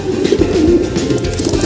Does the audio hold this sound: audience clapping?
no